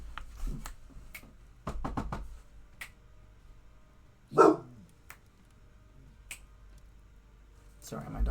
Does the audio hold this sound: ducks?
no